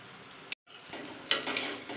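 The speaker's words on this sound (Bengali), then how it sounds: "চলো দেখো অমলেট ভাজছি ডিমের" An egg omelette frying in a pan at home gives a soft, steady sizzle, interrupted once by a brief silence and then clattering pan and utensil noise.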